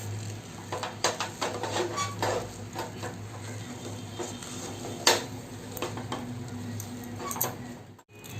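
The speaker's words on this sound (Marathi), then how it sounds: "पीठ आपण ना सारखं ढवळत राहायचं आहे, खाली लागता कामा नये" Rice flour dough for ukadiche modak stirred steadily in a pot over a low hum, with close scraping and occasional clinks of the spoon against the metal sides.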